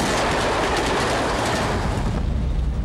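A train rolling past on rails, a loud, close, continuous rumble with rhythmic clickety-clack of wheels that eases slightly toward the end, with no voices.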